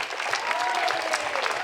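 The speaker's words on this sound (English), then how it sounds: "again, let us honour him with a big round of applause" A crowd at the March For Life rally in Brisbane, 2024, breaks into steady, loud applause, dense clapping with a few cheers mixed in, sustained throughout.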